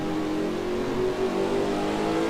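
A race car engine in a racing video game revs and drones steadily at a sustained high pitch, loud and continuous from start to finish, with a slight rise in intensity midway and no speech.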